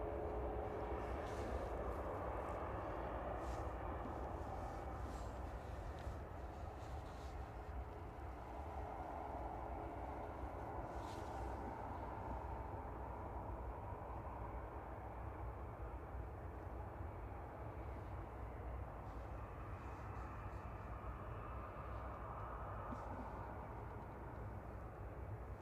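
An ATR 72-600 turboprop airliner lands at Manchester Airport. A steady, distant roar of engine and rolling noise holds at an even level throughout, with no talk heard.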